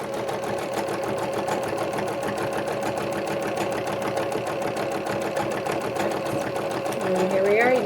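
A sewing machine stitches a coiled fabric rope bowl, running at a steady, continuous whir with a dense rapid needle rhythm throughout, growing slightly louder near the end.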